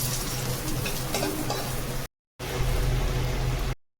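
Shallots frying in a pan as the first step of fried rice: a steady, loud broadband sizzle with a low hum beneath, broken by a brief pause, then resuming alone without talk.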